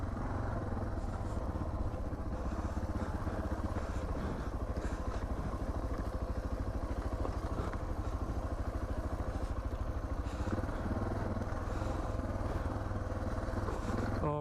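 Suzuki DR650 motorcycle riding in the desert, its single-cylinder engine thumping in a steady, loud, close drone throughout, with faint rattles and wind and no talking over it.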